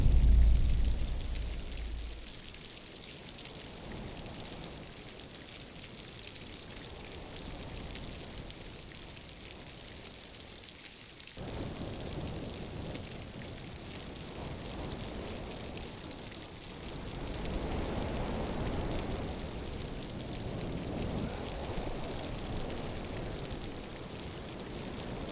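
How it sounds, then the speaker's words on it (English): Steady rain falling in Glencoe in the Scottish Highlands, a continuous hiss of drops on surfaces that swells and fades slightly over time, with no voices. "The rain didn't go off."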